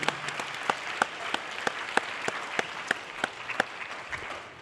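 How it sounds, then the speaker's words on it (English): An audience at the Miss Provo 2020 pageant applauds its sponsors with a thin, steady spread of clapping and distinct individual claps standing out in an even rhythm. "How about a round of applause for these sponsors?"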